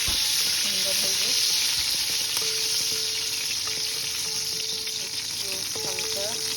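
Whole spices and raisins fry lightly in hot oil in a pan, giving a steady, close sizzle with occasional faint stirring scrapes and no talk.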